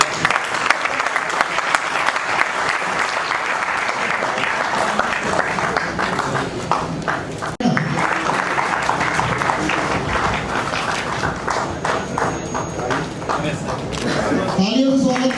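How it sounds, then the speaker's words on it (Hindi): A crowd at a state-level nurses' teacher felicitation ceremony claps continuously in loud, sustained applause for about fifteen seconds, with people talking over the clapping. "तालियां तो बजाते रहो।"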